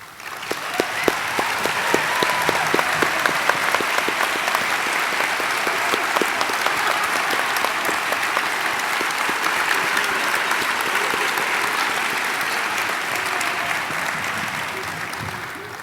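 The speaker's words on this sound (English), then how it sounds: "please join me in a round of applause" An audience at a college of osteopathic medicine hooding ceremony applauds, a loud, dense, sustained clapping that builds quickly, holds for many seconds, then tapers off.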